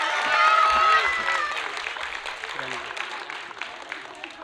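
Parents clap at a school graduation ceremony, a dense patter of applause that fades gradually and continues under voices and crowd noise.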